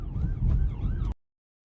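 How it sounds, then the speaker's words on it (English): Wailing siren rising and falling in repeated sweeps over a loud low rumble, close and steady for about a second before cutting off abruptly into silence. "I'm worried about the sirens at the end of that clip"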